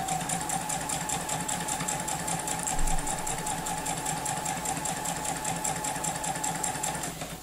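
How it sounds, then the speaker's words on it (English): A sewing machine runs steadily and close up, stitching a quarter-inch seam on quilt wedges for a Dresden Plate block, humming without a break for several seconds. "I'm gonna just sew a 1/4 inch seam down."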